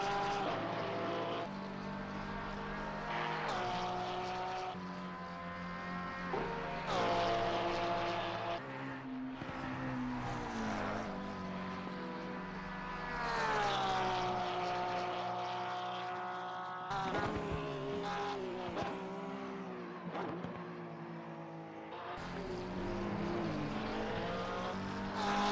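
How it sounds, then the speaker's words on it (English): Race cars lapping Bathurst in a sim racing game, with a Porsche in the field: layered engine tones rising and falling through gear changes, loud and continuous for the whole stretch with no talk. "first lap overtake on them by Elfwus in the Datmus Kessel number 379 Porsche"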